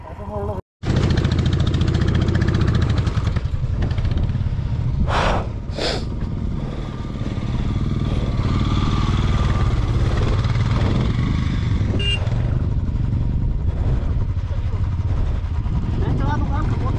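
Motorcycle engine running on a long detour road, a loud, steady throbbing rumble that continues almost throughout after a brief cut near the start, with a few sharp clanks and people talking over it.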